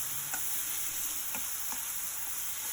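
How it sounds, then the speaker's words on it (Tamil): Spring onion stalks and chopped onion sautéing in a pan for a light vegetable soup, giving a steady broadband sizzle with a few soft stirring clicks, close and even throughout with no talking. "அந்த வெங்காயத்தையும் வந்து சேர்த்து நல்லா வந்து இப்போ வதக்கிக்கிறோம்"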